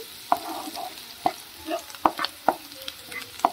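Finely chopped ginger and garlic frying in a pan, a quiet steady sizzle punctuated by several sharp clicks and scrapes of stirring, close and alone with no talk.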